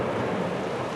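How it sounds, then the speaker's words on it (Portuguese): Heavy rain pours steadily near a football training ground during a thunderstorm, a dense continuous roar with a low rumbling undertone of thunder throughout the short stretch. "raios e trovões começaram a cair aqui para os lados"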